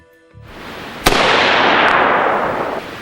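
A single loud AR-15 rifle shot fired through a Lantac Dragon muzzle brake, a sharp crack followed by a long, dense blast and rolling echo outdoors, with no talk.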